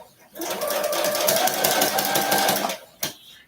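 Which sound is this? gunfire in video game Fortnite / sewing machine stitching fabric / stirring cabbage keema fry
sewing machine stitching fabric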